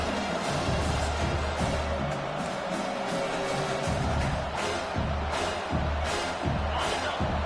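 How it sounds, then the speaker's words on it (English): Dense college football stadium crowd roaring steadily throughout, a loud sustained wash of noise swelling as fans rally behind the defense on third down. "Decibels rising as the crowd gets behind this defense on 3rd down."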